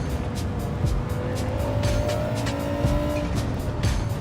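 A race car in the Gran Turismo 7 video game, a steady droning engine with faint tire noise under braking and repeated clicking sounds, with no talking.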